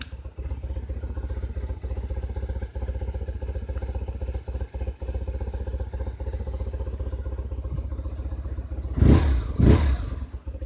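BMW R 1100 RT motorcycle engine idling steadily with a low, even drone close by, rising in two short louder revs near the end.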